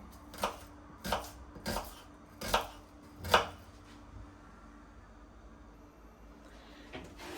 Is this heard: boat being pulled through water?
no